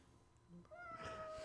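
A cat meows once, a clear rising-and-falling call that stands out close by over a quiet room background.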